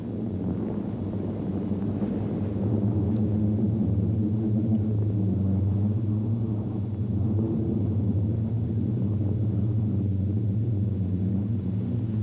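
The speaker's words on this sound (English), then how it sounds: "the so-called roaring dunes that hum and drone whenever sand slides" Low roaring drone of sliding sand on the Skeleton Coast dunes, a deep steady hum that swells and persists without a break, loud and continuous throughout.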